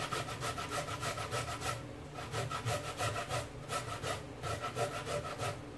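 Raw cassava grated by hand on a grater for Jamaican-style fritters makes a fast, rhythmic rasping scrape. Close, even strokes repeat steadily, with a brief pause partway through.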